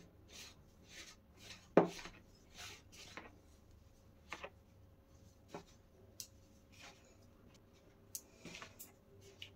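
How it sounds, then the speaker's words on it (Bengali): Hands rub oil into flour for kachori dough, giving soft, intermittent rustling and scraping strokes, quiet and close, with a sharper knock now and then and no talking. "এখন ভালো করে ময়ান দিয়ে নেব।"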